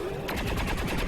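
Rapid bursts of gunfire in the XCOM 2 video game, loud and dense, rattling repeatedly like automatic weapon fire over a sustained sound effect, with no voices.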